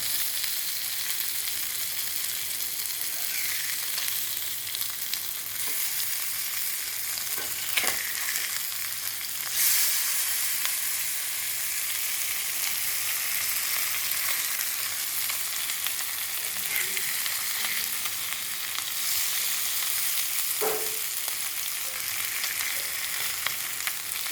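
Sardine fish frying in a pan with masala, a loud, steady oily sizzle that holds close and constant throughout, with a few faint scrapes and taps now and then.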